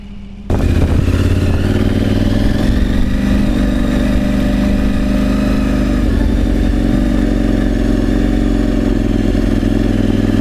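Motorcycle engine droning steadily as the bike rides along a wilderness road in Sweden, starting abruptly and holding a loud, continuous mid-pitched hum with slight rises and falls, no voices.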